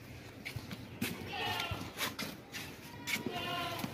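A goat bleats several times in short, nasal calls at a livestock market, close by, with other animal movement and someone talking in Hindi-Urdu throughout.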